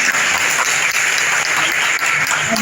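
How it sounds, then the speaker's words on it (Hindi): Dense, steady applause from an audience welcoming a revered guest at a religious discourse gathering in a Shri Satya Hari Shiv temple, filling the whole stretch loudly with no voices. "मैं अनुरोध करूंगा कि क्या तालियां बजाकर उनका स्वागत करने का कष्ट करें।"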